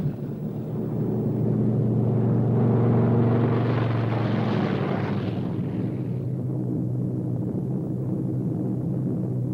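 A Boeing 299 B-17 Flying Fortress propeller aircraft on its first flight drones past as a heavy continuous engine rumble, swelling briefly louder midway and then settling back to a steady low roar.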